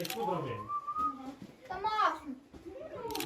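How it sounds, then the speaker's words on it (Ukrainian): A child whistles a wavering, sliding tune on a sixth-grade class trip to caves, close and moderately loud, broken by bits of children's voices talking nearby. "Та не свисти"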